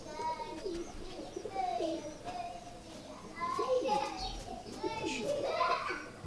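Red-eyed pigeons coo in short, repeated calls close by, mixed with children's voices and chatter in the background.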